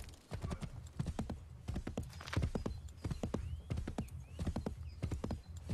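Horse hooves clip-clop in a steady rapid rhythm across the ground in the Assassin's Creed 3 video game, with a faint whinny mixed into the continuous galloping.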